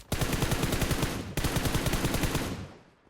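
Rapid automatic gunfire in the PUBG Mobile video game rattles loud and close in two sustained bursts with a tiny pause between them, the even rhythm of shots tailing off at the end.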